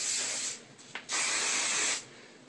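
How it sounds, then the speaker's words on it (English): Hairspray sprayed onto wavy curled hair in two long continuous hissing bursts with a short pause between, close and steady, no talking. "After you do that, you want to take the hairspray."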